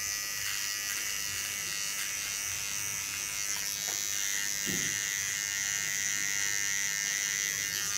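Electric hair clipper held nearly upside down close to the skin while shaving a nape, giving a steady high-pitched buzz that runs unbroken and close throughout.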